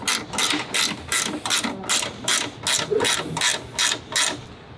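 A ratchet tightens bolts on slotted brackets set against the dash of an International Scout II during an AC unit install. It gives about eleven loud, close, evenly spaced clicking bursts in a steady rhythm, with no talking.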